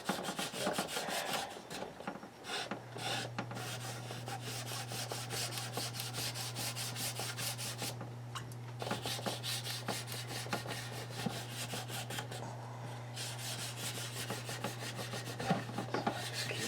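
Hand-sanding a part of a Refit Enterprise model kit: a soft, steady rasping rub repeated in short strokes, faint and close, with a low constant hum in the background.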